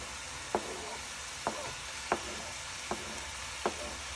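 Onions for a Trinidad pelau sizzle in a hot pot with a steady hiss, broken by about five sharp stirring knocks at regular intervals, close and moderately loud with no voices.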